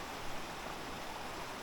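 River water rushes along a country stream on the way to a waterhole in Jamaica, a steady broadband wash with no voices.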